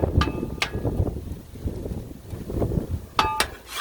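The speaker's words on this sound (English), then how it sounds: "our infamous Santa Ana winds have kicked up" Santa Ana winds gusting outdoors beside a Blackstone griddle, a steady low rumble of wind buffeting the microphone, with a few sharp metallic clinks standing out near the beginning and end.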